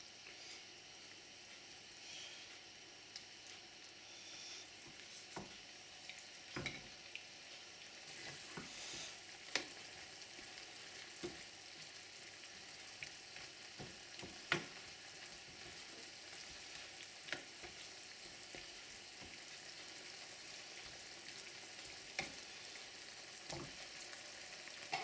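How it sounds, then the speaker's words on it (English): Chicken of the woods mushroom simmering in a covered pan, a soft steady sizzle and bubbling hiss with scattered small pops and clinks, no voices. "So I just cover it and leave it to slowly simmer"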